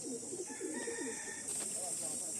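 Madras pigeons in a Kolkata-bred pair coo softly in a loft against a steady background hiss, with faint tonal notes partway through.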